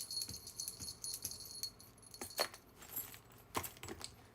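A small charm hanging from trousers jingles as the wearer moves, giving faint, irregular metallic clinks and light rattles with short pauses between them.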